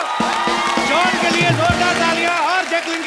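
Studio audience on a comedy talk show clapping and cheering loudly, with whoops and shouts rising over a music sting, a dense sustained roar close by.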